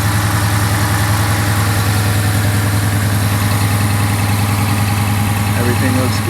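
A car engine idles steadily after a 180-degree thermostat install, a constant low hum with a mid-range rumble running close and loud throughout, with no talking.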